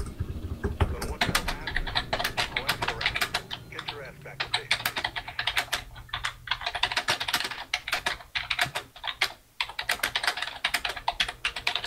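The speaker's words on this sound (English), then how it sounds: "Typing is so intense." Rapid keyboard typing, dense irregular clicks and key clacks continuing for the whole stretch, close and fairly loud, with a bit of voice underneath at the start.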